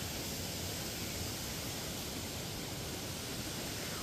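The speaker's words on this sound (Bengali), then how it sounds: "ফাইনালি ওয়াকাবা ফলস যেখান থেকে বয়ে পড়ছে সেখানে এসছি" Water pours from Wahkaba Falls, a continuous, even, hissing roar without breaks, heard alone at a faint level.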